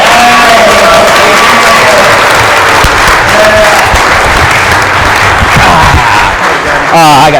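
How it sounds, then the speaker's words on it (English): A conference audience at a summit applauds and cheers, dense sustained clapping filling the room with shouts and voices mixed in. "I want everybody to give us a huge round of applause for Mr."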